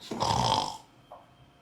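One loud, rasping snore from a sleeper, linked to sleep apnea, lasts about half a second and is followed by a faint breathy exhale in otherwise quiet surroundings.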